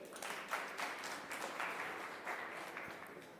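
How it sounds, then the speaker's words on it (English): A conference audience gives a round of applause for a panel host at a technology week event, a soft, distant spatter of clapping that holds steady and then thins out slightly. "A round of applause for Joel."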